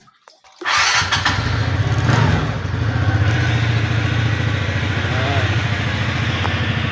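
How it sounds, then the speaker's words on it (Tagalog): Honda Ntorq 125 scooter after a tune-up, throttle-body cleaning and CVT service, started up close by and then running steadily with a slightly uneven idle throughout. "sound check tayo"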